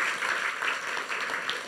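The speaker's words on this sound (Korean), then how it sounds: "박수 한번 보내주세요" Audience at a book talk applauds, a soft, steady patter of many hands at moderate distance, sustained without voices over it.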